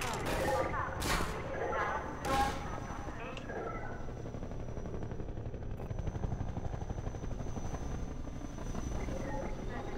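The combat helicopter in the Half-Life 2 video game drones with a loud, steady rotor roar, broken early by a few sharp bursts of gunfire. Someone talks over the noise.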